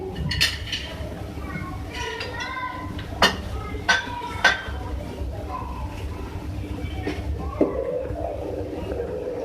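A utensil mixes ginger garlic paste into masoor dal in a cooking pot, making scattered clinks and scrapes against the metal with a few sharper taps, close and moderately loud over a low background hum.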